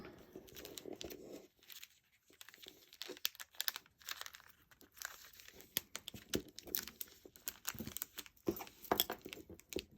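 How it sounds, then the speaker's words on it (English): Cellophane on the back of a handmade shaker card crinkles and crackles in close, irregular bursts as it is pressed and creased shut, with short quiet gaps between. "give the cellophane a little bit of a crease in it to help it stay closed better"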